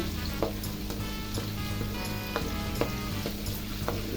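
Ginger sizzling and being stirred in a pan for pakbet, a Filipino vegetable dish with shrimp paste; steady close frying hiss with scattered utensil clicks and stirring scrapes, no talk.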